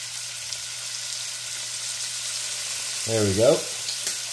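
Ground beef sizzles in a skillet with a splash of Worcestershire sauce as it cooks for tacos, a steady close frying hiss throughout, with a brief spoken remark near the end.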